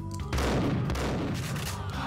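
Rapid, sustained gunfire from an inaccurate weapon in the Max Payne video game, a dense volley of shots that stays loud and continuous throughout, with no talking.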